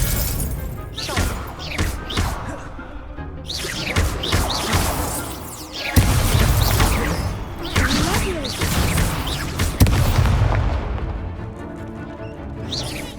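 Confringo fire spell blasts in the video game Hogwarts Legacy, a dense jumble of crashing, shattering impacts and whooshes with heavy low thumps, loud and continuous amid game combat noise.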